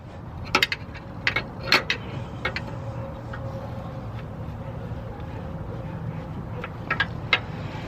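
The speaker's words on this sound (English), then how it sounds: "I'm gonna tighten this one now, the little locking nut" Locking nut being tightened on a Raceland Primo coilover on a Subaru WRX, giving a series of sharp metallic clicks and ratcheting ticks, clustered near the start and again at the end over a steady low background hum.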